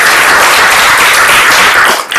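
Audience applause at a gala thanking supporters, a dense, loud wash of many hands clapping steadily throughout, tapering briefly near the end.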